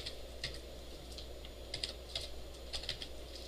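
Computer keyboard typing in a quiet room during a web database programming lecture, with irregular soft key clicks in small bursts over a low steady hum.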